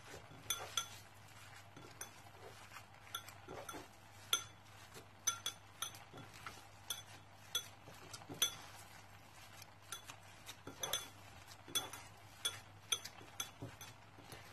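Utensils clink and scrape against a bowl while seasoned ingredients with salt and black pepper are mixed by hand, a steady run of small, close metallic and glassy ticks with no talk.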